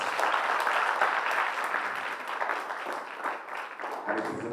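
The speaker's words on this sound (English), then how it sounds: "Give her another big round of applause." An audience at a research day opening plenary gives a round of applause, dense steady clapping that thins slightly toward the end, where a voice begins speaking over it.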